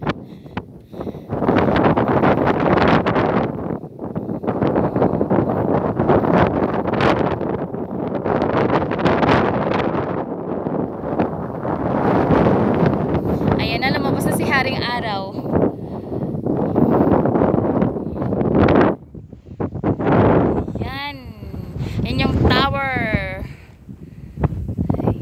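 Strong gusty wind on top of Jamanota mountain in Aruba buffets the microphone throughout, with a person talking over the roar.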